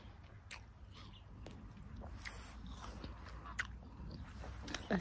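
Close, quiet crunchy bites and chewing on a fresh jumbo pear just picked from the tree, a few irregular crisp snaps over soft background noise.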